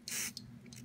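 A short hiss of rim oil sprayed from a can onto the bolt of a Daisy Powerline 880 air rifle during repair: one quick close burst, then two fainter spurts over a low background hum.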